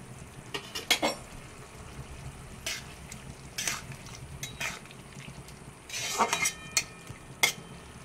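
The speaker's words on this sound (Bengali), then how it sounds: "এইবার আমি যে পোস্তটা বেটে রেখেছিলাম সেটা এখানে দিয়ে দেব। এবার হালকা নাড়াচাড়া করে নেব।" Bitter gourd and poppy seed paste are stirred in a pan for a Bengali korola posto. A spoon scrapes repeatedly over a soft, steady sizzle, giving several sharp, close strokes spaced irregularly, with no talk.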